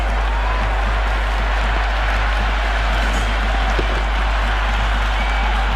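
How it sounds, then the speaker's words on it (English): A packed stadium crowd at a Sri Lanka versus England one-day international cricket match keeps up a dense, loud wash of cheering and applause without a break. "It's evident and ever so audible that the crowd is at near bursting point"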